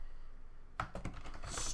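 Keys clatter on a computer keyboard after a quiet pause, a short irregular burst of close, fairly soft clicks starting partway through and continuing to the end, with no voices.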